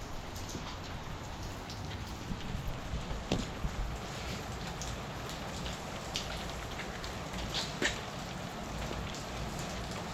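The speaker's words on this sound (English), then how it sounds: "a little rainy day." Rain falls steadily outdoors on a rainy day, a dense even hiss of drops with occasional louder taps, no talk.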